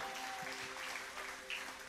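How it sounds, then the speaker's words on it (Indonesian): Church congregation applauding during an Indonesian sermon, a steady wash of clapping across the whole stretch with faint tonal sounds and a voice or two mixed in. "berikan tepuk tangan buat Tuhan."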